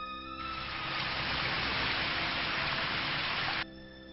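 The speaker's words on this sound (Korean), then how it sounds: "빗소리" Heavy rain pours down in a steady, dense roar that swells in after a quiet start and cuts off abruptly near the end, with no voices.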